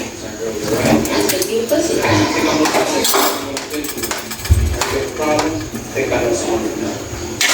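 Chayote pieces dropping into a metal pot of simmering Filipino chicken tinola, with scattered clinks and clattering of utensils against the pot, close and fairly loud.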